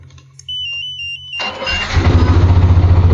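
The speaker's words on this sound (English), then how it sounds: "the bike starts normally" A Yamaha Nmax scooter fitted with a Spy 5000m alarm chirps a high electronic tone, then the engine cranks and catches, settling into a close, loud, rhythmic idle.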